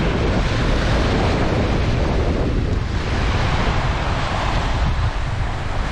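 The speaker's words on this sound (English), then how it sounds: "Because I can get the waves just right." Ocean waves wash onto a beach in a constant loud roar of surf, mixed with heavy wind buffeting the microphone, with no voices.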